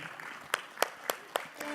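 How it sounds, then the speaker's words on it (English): A handful of separate, evenly spaced claps ring out, about five sharp hits over under two seconds, as an audience at a women's nuts and dry fruits industry event welcomes Georgia Crane to the stage. "Let's give it a warm round of applause as we welcome none other than Georgia Crane."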